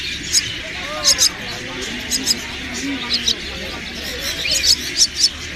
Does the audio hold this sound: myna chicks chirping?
yes